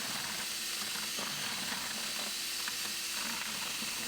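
A mechanical mixer stirs a batch of Marmorino Venetian plaster with luminoso powder, producing a quiet, steady grinding whir with faint ratcheting texture and no pauses.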